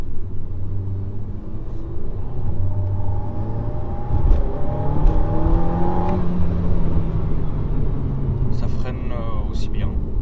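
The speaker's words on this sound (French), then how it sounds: "On entend le turbo, par contre." New Alpine sports car with a turbocharged engine, heard from inside as a steady engine rumble that rises while accelerating, with a faint turbo whistle on top, and people talking over it.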